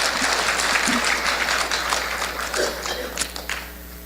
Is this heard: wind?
no